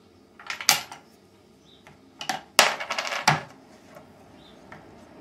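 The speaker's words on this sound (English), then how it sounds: "Turn the lever, which manoeuvres this up to allow the coin to drop out." A coin drops out of a homemade vending machine mechanism, producing several sharp metallic clinks and rattles in short bursts, close and fairly quiet.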